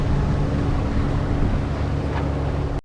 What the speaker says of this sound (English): Engine sounds good and everything feels pretty smooth.